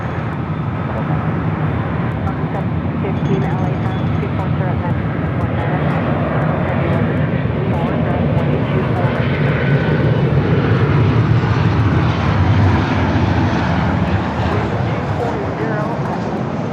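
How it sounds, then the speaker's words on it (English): Delta Boeing 737-900ER taking off from LAX runway, its jet engines a steady, loud broadband roar that holds strong throughout, with a voice talking over it. "Was a Delta 737 900ER"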